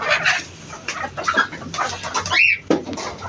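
Hens clucking and squawking inside a chicken coop just after laying eggs, loud, close and agitated, with overlapping calls and one rising shriek.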